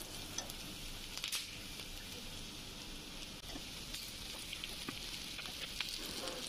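Boiled potatoes frying in a pan with green chilli and ginger as filling for samosas, a faint steady sizzle with soft scraping stirs now and then, no talk.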